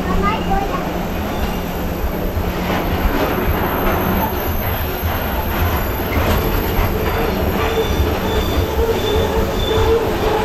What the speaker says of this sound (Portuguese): Além de levar aqueles vagões que possivelmente é de celulose, ele está carregando uns containers também